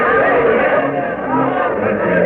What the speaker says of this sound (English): crowd waiting here before the Raleigh Tavern extends far up and down Duke of Gloucester Street